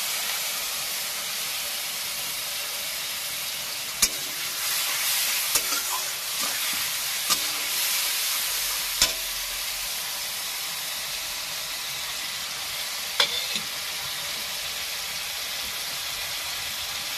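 Spice masala frying in a pan for amudi fish curry, a loud steady hiss and sizzle throughout with a few sharp stirring clicks and scrapes.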